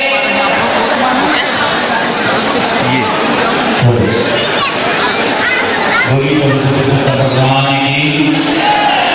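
Dense crowd at a Jain temple stage program in Amarkantak, a continuous loud babble of many voices with shouting and chatter close by, unbroken throughout.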